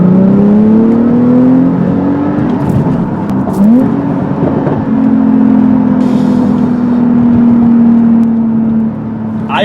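A gasoline car engine revs loud and close, its note climbing steadily, dropping briefly as a gear shifts, then pulling up again into a sustained high whine.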